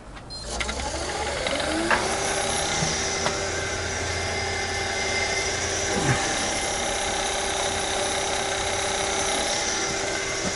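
Wood lathe spinning a wooden muddler, a steady mechanical whir with a low drone and faint higher tones running continuously, with a few light touches of a tool against the turning wood.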